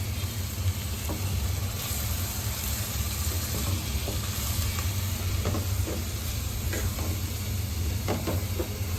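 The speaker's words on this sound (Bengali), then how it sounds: "এখন মশলা পেস্টটা আমরা দিয়ে দেবো।" Masala paste hits onion and garlic already frying in a pan for a chicken curry, giving a steady, loud, close sizzle and hiss that runs without a break and with no voices.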